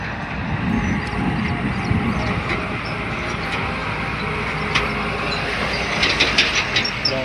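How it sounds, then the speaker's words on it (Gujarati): A train rumbles past on a rail line near a farm field during potato harvesting, a steady broad roar with faint clickety-clack and rising hiss toward the end, close and continuous with no talk. "ટ્રેન પણ આવી ગઈ છે।"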